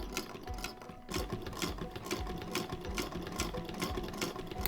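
A sewing machine quilting patchwork stitches in fast, even bursts of rapid mechanical chatter, close and clear with no voices.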